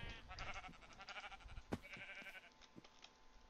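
A sheep bleats in a block-building video game, a short wavering baa followed by a second quick bleat, close and moderately loud with no talk over it.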